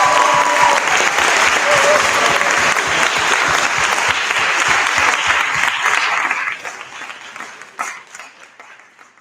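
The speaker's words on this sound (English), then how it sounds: "give 4 times the amount of applause for him" A crowd in a livestream audience claps for a guest named Gamal, with dense steady applause that holds loud for several seconds and then thins out and fades to scattered claps.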